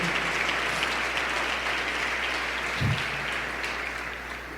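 Dense applause from a big congregation at a church service, steady and loud, gradually tapering off near the end.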